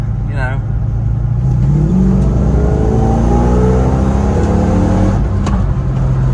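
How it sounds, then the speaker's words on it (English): A car engine at full throttle climbs loudly in pitch through a long, continuous rev before settling, heard close up from inside the car. "I think we got full throttle now"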